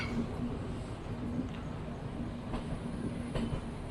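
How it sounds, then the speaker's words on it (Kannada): A Hampi Express train rumbles steadily with a continuous low roar and faint rhythmic wheel clacks, sounding close, like carriages rolling slowly along platform 5 at Yelahanka Junction. "ನಮ್ಮ ಟ್ರೈನ್ ಈಗ ಯಲಂಕ ಜಂಕ್ಷನಿಗೆ ಬಂದಿದೆ"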